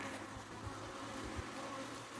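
Honey bees buzz inside a hive, a close, steady low drone with faint fluttering pulses throughout, no talk.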